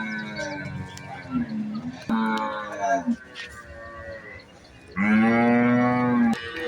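Cattle lowing at the Valliyoor cow market in Tirunelveli, with several loud, drawn-out moos close by, one long call at the end, and market background between calls.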